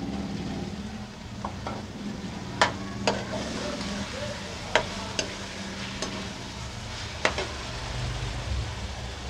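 Tomatoes sizzle steadily in a pan of aloo keema matar while a spoon stirs them in, its sharp scrapes and taps against the pan ringing out every second or so over the constant frying hiss.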